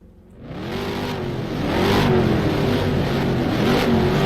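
V8 race car engines in a road-course racing video game start up and rev together, a loud steady mechanical drone that rises in pitch and swells after the first second, then holds high and sustained.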